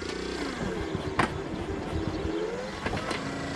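A homemade hybrid mini tractor chugs along with a steady, close engine drone and some rattling, its pitch shifting slightly as it moves.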